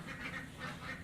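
Ducks quack at a farm where they are used to clean maggot frass, a steady, moderately faint chorus of nasal calls that runs throughout with no voices.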